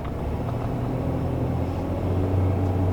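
A V6 Volkswagen Passat pulls out and accelerates in first gear, its engine a low, steady rumble heard from inside the car, rising slightly in strength toward the end.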